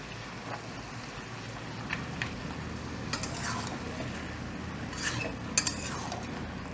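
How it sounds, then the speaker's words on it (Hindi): Mutton curry is stirred in a pot, with quiet scraping and occasional metallic clinks of a spoon against the vessel over a low background hum, close and fairly faint. "डाल के अच्छे तरह से मटन के साथ मिक्स कर लीजिए"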